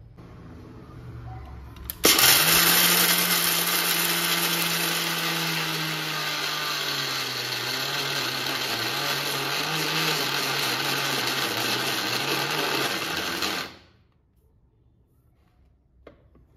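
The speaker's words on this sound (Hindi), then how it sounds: "तो ऐसे मिक्सर को दो तीन बार घुमाना पड़ता है," An electric mixer grinder churns roasted peanuts into peanut butter, starting abruptly, then whirring loudly and steadily for about twelve seconds before cutting off and winding down.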